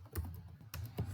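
Quick bursts of typing on a computer keyboard, a few sharp clustered clicks with short pauses between them, close and fairly quiet.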